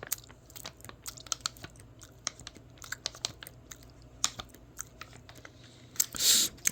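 Someone eating Natuur Dolce Maple & Nuts ice cream up close, with soft scattered chewing clicks and small crunches from the nuts, quiet throughout, ending in a brief louder rustle.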